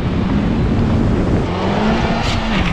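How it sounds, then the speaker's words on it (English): A BMW X4 M40d diesel and a Honda Civic Type R launch together in a drag race, a loud, dense roar of engines and tyres at full throttle, close and continuous. "That BMW just shot off."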